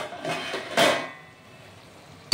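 A lid lifted off a cooking pot: a short metallic clatter and a brighter scraping clank, then near silence and a faint click at the end.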